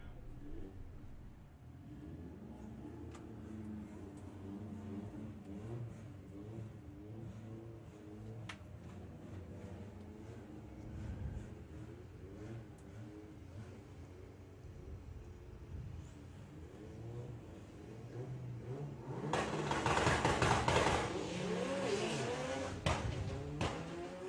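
VW Pro drag race cars at Santa Pod rumble at a distance under a loose crowd din, then surge into a loud, roaring launch near the end.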